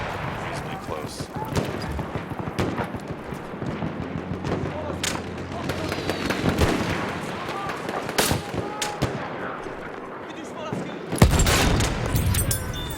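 Gunfire and artillery cannon blasts in the video game Battlefield 1, with bursts of shots and sharp booms scattered through a busy battle, one heavy blast near the end, and speech mixed in.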